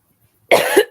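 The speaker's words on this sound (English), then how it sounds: "I'm going to start coughing again." One short, harsh cough bursts out close and loud after a brief silence.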